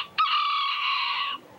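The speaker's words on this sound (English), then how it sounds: "I like to think that the chickens of Key West are the soul of old Key West" A Key West rooster lets out a single loud, close crow lasting just over a second, clear against a quiet background.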